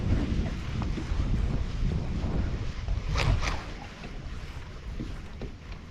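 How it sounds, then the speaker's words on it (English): Wind buffets steadily over a fishing boat on open water, a loud low rumble of gusts against the microphone with faint slapping water and a few brief clatters. "that wind is good"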